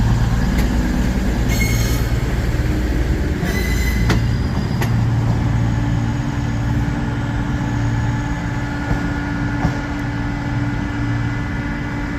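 Loud rumble of a Cross Country train leaving Birmingham New Street station, a steady roar of wheels and engine with brief high metallic squeals early on and no talking.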